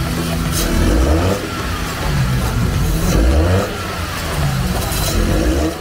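A Nissan car engine runs in a MOBENG workshop in Sunter, giving a loud, close, steady mechanical drone with gentle swells in pitch and level.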